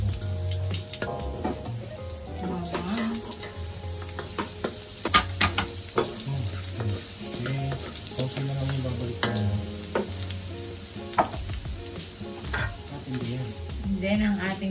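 Onion and garlic sizzle loudly in a hot pan while being stir-fried for a Filipino chop suey, with spatula scrapes and clatter over constant frying, and a voice talks intermittently.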